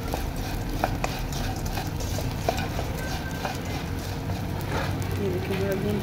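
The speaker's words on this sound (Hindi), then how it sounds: "अगर आपके पास ज़्यादा गूंद है तो आप थोड़ा थोड़ा ऑयल डाल के फिर इसको फ्राई करें" Gond, an edible gum, fries in a little oil with a continuous close sizzle and frequent stirring scrapes. Someone speaks over the cooking.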